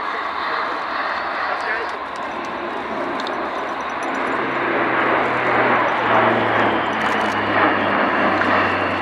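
Airbus A400M Atlas military transport aircraft flying at the RIAT 2018 airshow, a steady broad propeller and engine drone sustained throughout, with a low droning tone rising in the second half, under a commentator's voice.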